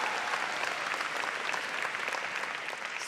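Audience applause for an honoree at an education service awards ceremony: steady, dense clapping filling the room throughout, fairly loud and even, with no voices over it.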